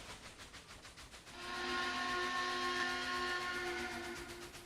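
An N-scale model train runs on a layout track with a rhythmic clicking, then a sustained whistle-like tone rises and holds for several seconds, faint overall.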